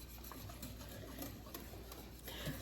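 Whisking a coquito drink mixture makes a faint, rapid, steady rhythmic clatter of the whisk against the bowl, heard alone.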